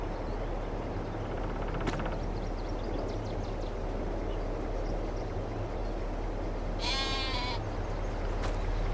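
Sheep bleat in a snowy winter farmyard in the Farming Simulator 22 game, a couple of short calls over a steady low ambient drone.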